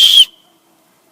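A homemade whistle made from a beer can, blown once in a short, shrill, loud blast that cuts off abruptly into silence.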